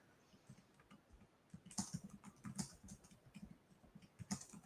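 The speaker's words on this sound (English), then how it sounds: "Just trying to type and talk at the same time." Rapid typing on a computer keyboard, a steady run of close, light clicks and key taps growing busier partway through, with no talk over it.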